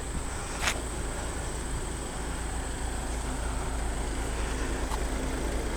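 A 2015 Volkswagen Jetta 2.0-liter TDI SE diesel engine running as a smooth, steady hum with road noise around it. The tone stays even, with no distinct knocks or revs.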